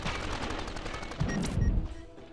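Sniper rifle shots in 24: The Game, a run of sharp rapid cracks followed by a couple of heavier booming hits, then fading out, moderately loud.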